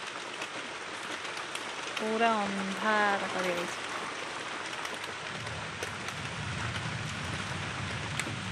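Heavy rain falls in a village with a steady, close hiss throughout, while a person speaks briefly over it.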